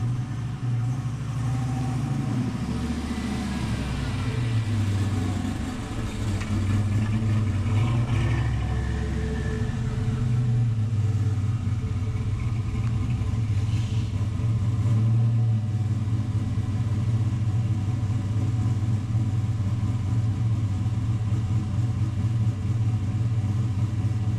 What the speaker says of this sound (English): The new Sloppy Best Cam is in the Oldsmobile. It does run and drive.